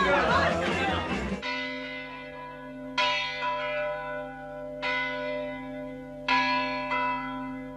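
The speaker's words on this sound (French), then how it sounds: "Il y a 28 ans que je sonne les cloches." Church bells ring loudly and close by after a burst of noisy clatter, with long sustained tones and fresh strikes arriving roughly every one and a half to two seconds.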